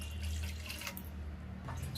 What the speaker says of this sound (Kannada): 4 ಲೋಟಷ್ಟು ನೀರು ಹಾಲು ತೊಗೊತಾ ಇದ್ದೀನಿ